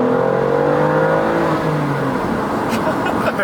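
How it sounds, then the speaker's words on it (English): A BMW M2 CS pulls hard at full throttle in first gear, its engine note climbing quickly in a loud, rising rev that peaks and then fades as the car moves off, with faint voices underneath. "That was just in first gear, full throttle."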